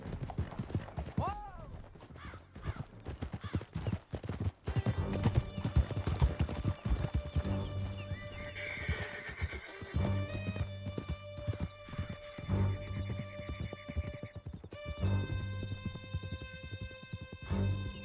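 Horse hooves clip-clop at a gallop in Red Dead Redemption 2 during a canyon escape, rhythmic and steady with a neigh near the start and a music score underneath.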